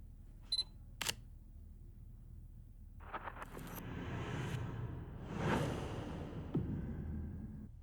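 A couple of sharp clicks, then a rising, swelling whoosh that sweeps past loudly and fades, with a light hit near the end.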